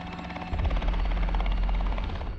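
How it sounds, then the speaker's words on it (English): A rescue helicopter's rotor thumps steadily and loudly close by at a motocross crash site, a deep, continuous chopping drone with no voices. "Hearing the helicopter is the greatest sound you can hear"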